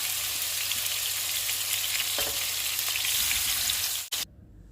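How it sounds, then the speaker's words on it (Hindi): Tawa fish fry: fish pieces sizzling steadily on a hot tawa griddle, a loud, even hiss of oil with a few scrapes, cutting off abruptly near the end. "इसी तरह से हम बाकी भी फ्राई कर लेंगे"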